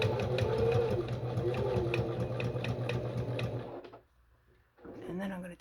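A sewing machine zigzag-stitches around paper book pages for a junk journal, running steadily and loud for nearly four seconds, then stopping briefly before starting up again.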